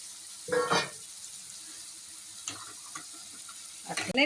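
Prawns being sautéed with spices in a pan for a Malvani prawn dish: short bursts of stirring and sizzling, with quiet gaps between them.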